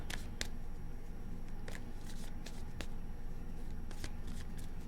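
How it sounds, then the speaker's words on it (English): Tarot cards are shuffled by hand in several quick riffling bursts, crisp and close, with short pauses between them and no talking. "Two more shuffles."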